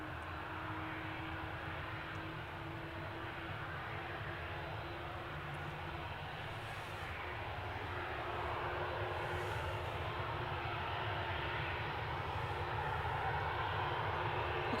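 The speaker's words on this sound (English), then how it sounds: "Registration is GDRTA and it is a 21-year-old aircraft." An aircraft at Manchester Airport, a 21-year-old airliner, gives a steady, broad engine roar that swells slightly toward the end, distant and continuous with no talk.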